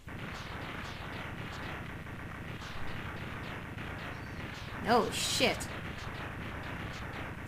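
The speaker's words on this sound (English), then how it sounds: "Some intense explosions going on." Explosions rumble and crackle on in the Rockman X2 video game as a steady, dense barrage, and a player's voice briefly exclaims over them.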